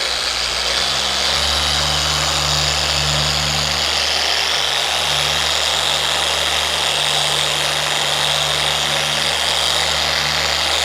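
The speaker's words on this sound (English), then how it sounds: "I really love this little polisher just because it's small and a lot easier to work in different areas" A small polisher buffs a carbon fiber ducktail spoiler on a 2022 BMW M3 Competition (G80), running at raised speed as a steady close motor whine with a low hum, continuous and alone throughout.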